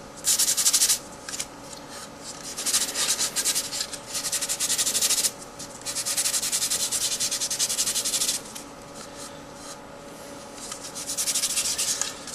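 High-grit abrasive rubs across a model kit's surface in steady, close scratchy strokes, with brief pauses and no voices.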